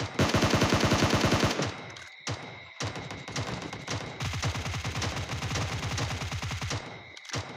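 Rapid automatic gunfire from a heavily recoiling gun in a video game, loud bursts of dense repeated shots broken by brief pauses, close and without talk.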